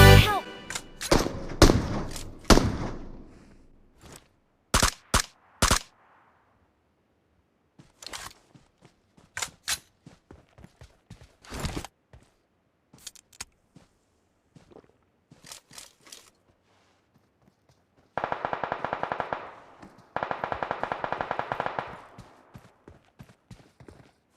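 Gunfire in PUBG Mobile: sharp single shots and quick bursts in irregular clusters, loud and close, ending in two long sustained automatic volleys.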